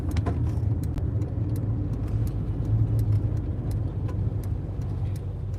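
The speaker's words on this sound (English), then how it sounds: "I'm having to drive so careful right now. This clutch is shot." A car with a worn-out, failing clutch drives along, its engine a steady low hum from inside the cabin, with faint ticks and small rattles scattered throughout and no talking.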